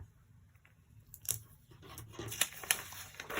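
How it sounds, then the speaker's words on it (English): Tape pulled and torn off a roll to join printed sewing pattern pages, brief sharp rips and crinkles near the end after quieter paper handling, close and faint. "You line it up along the margin line and then take some tape."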